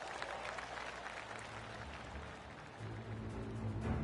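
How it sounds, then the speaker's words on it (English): Crowd of golf spectators giving light golf claps around the course in the Golf 2K25 video game, a soft, steady patter of scattered clapping at moderate distance, continuous throughout with no talking. "I can hear the golf claps around the course"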